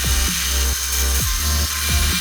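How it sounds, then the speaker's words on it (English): A 1/2 inch drill drives a 2 1/4 inch hole saw through a metal base plate for a drift car roll cage, giving a loud continuous whine with repeated dips in pitch as the cutter bogs. "my 1/2 inch drill to drill the 2 1/4 inch hole saw through here"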